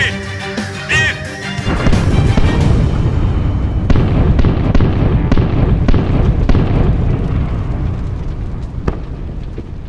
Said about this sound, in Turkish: Torpido hedefi vurdu komutanım.